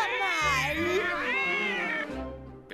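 A cartoon cat from Pinky, Elvira and the Brain lets out a long, drawn-out meow that bends in pitch, loud and close, followed by a shorter meow near the end.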